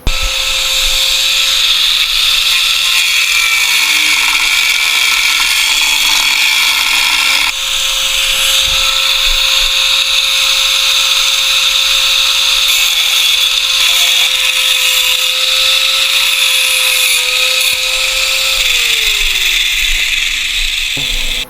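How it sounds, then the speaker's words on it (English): A car engine valve cover, dirty and due for a later repaint, being cut on a build with Stage 2 cams; a loud, steady power-tool whine with a sustained tone that holds, then slides downward at the end, with no talking. "I believe I'm going to cut this cover right now."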